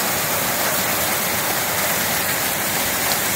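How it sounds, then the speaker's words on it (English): Soft hail pelting down steadily outdoors by a roof in late February, a dense, even hiss of small ice pellets with no break, loud and close, with no voices. "It is hailing."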